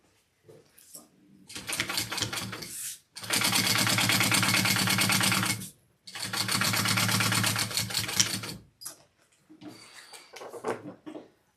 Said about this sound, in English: I'm just gonna baste this top together,